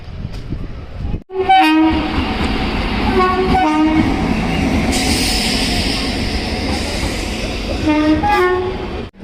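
A passenger train with new LHB coaches rumbles past steadily, wheels clattering rhythmically on the rails, as a horn sounds in short bursts.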